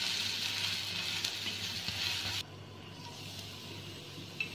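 A dosa on a hot pan with coconut oil sizzles steadily after being flipped. The frying hiss is continuous and close, then drops to a quieter, softer sizzle partway through.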